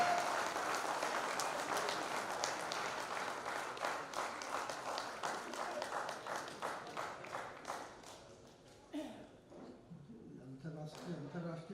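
An audience at a live Hindi comedy poetry event in Dewas applauds loudly for a comedy poet, with dense clapping that thins out and turns into scattered claps near the end.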